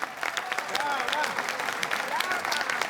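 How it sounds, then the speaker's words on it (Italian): An audience claps in a dense, continuous burst of applause for someone on an open-air stage in a town square in Jesolo, with voices mixed in. "voglio sentire un altro bellissimo applauso ragazzi"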